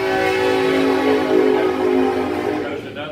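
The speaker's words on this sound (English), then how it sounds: "There goes another train by, Ms.June." A passing train sounds a long, steady horn that holds for over two seconds and then fades away, with the rumble of the rail cars beneath and no speech.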